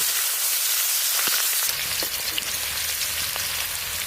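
Coriander, cumin, garlic and green chilli frying in hot oil in a village-style Indian kitchen: a steady close sizzle that thickens partway through, with small crackles and pops.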